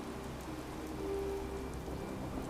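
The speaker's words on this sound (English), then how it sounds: "I love the weather in Far Harbor. Almost always raining." Steady rain falls in Far Harbor in Fallout 4, a constant even hiss of drops with a faint low rumble beneath, no voices.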